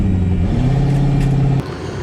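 A Mazda RX-7 with an eight-rotor engine drones steadily at the track, its tone stepping in pitch as the motor breaks up and loses power, close and loud throughout.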